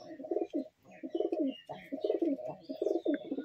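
A male pigeon coos repeatedly inside a loft, soft throaty rolling calls in short bursts with brief pauses, close but fairly quiet.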